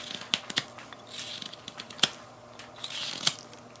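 A blade cutting away wood from the back of the neck on a carved wooden male torso: sparse, quiet scraping and crisp clicking cuts, a handful of sharp ticks spread across a few seconds, close and alone without talk.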